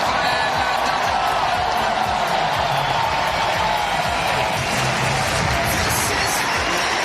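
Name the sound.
tennis crowd ovation at Olympic match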